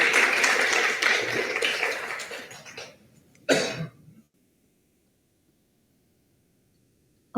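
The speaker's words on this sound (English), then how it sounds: "Can we get another round of applause for Zed here?" Audience applause at a university undergraduate research awards event, a burst of clapping from a modest crowd that fades out, followed by a brief cough or throat clear and then silence.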